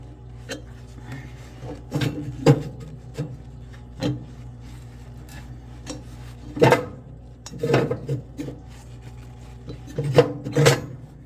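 A stuck metal part being worked and pulled out of a TPW-23 wood/pellet cookstove, irregular metallic clanks, scrapes and rattles in bursts, close and moderately loud.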